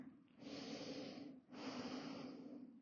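Two long, steady breaths from someone resting in child pose during a yoga session for arm strength. Each is a loud, close, airy exhale lasting about a second, with a short pause between them and no talking.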